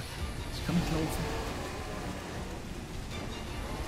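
During a boss fight in the video game Nioh, a lightning strike gives a crackling burst in the first second, followed by rolling thunder and a steady rain-like hiss.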